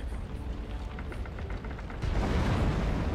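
Deep rumbling explosions in the video game Assassin's Creed Unity, a steady low roar with muffled booms that swells louder in the second half, with no voices.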